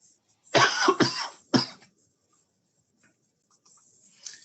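Two quick harsh coughs followed by a third, close to the microphone, then near silence with faint rustling.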